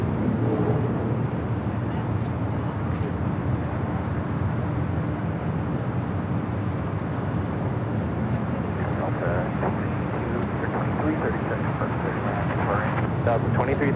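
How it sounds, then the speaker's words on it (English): Boeing 737-800 arriving from Portland and landing at LAX, with a continuous jet rumble at moderate distance that holds steady throughout. Some faint voices murmur beneath it. "737-800 coming in from Portland."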